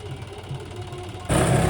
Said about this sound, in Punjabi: ਇਹ ਟਰੈਕਟਰ ਜਾ ਰਿਹਾ ਹੈ